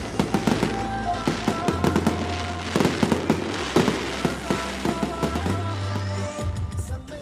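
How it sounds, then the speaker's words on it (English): Fireworks bursting in the open sky, a dense run of sharp bangs and crackles at a steady, lively pace through the whole stretch, with a low rumble underneath and no voices. "Just as we parted, the fireworks illuminated the sky."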